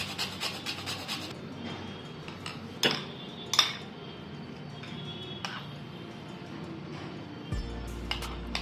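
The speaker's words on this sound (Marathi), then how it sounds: "जायफळ अख्खा असतं ना ते घ्यायचं ना असं किसून टाकायचं" Whole nutmeg is grated for an eggless plum cake, with light rasping and scraping strokes alongside scattered clinks and knocks of utensils, quiet and close.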